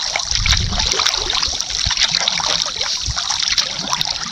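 Gentle water trickling and lapping as a canoe oar dips into a wilderness lake, close and continuous with faint splashes, no voices.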